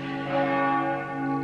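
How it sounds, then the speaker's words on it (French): Village church bells ring out with a sustained metallic toll, moderately near and steady throughout, with no voices present. "Il y a des cloches ici chez moi dans le bled."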